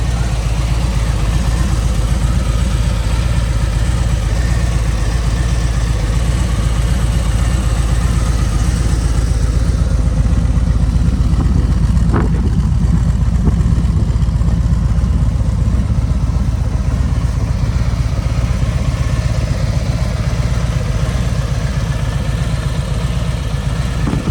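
A 2023 Harley-Davidson Road Glide motorcycle engine idles steadily and loudly up close, a continuous low rumbling throb that holds for the whole stretch without talk.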